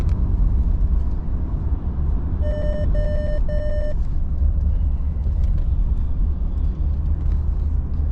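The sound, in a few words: road traffic passing by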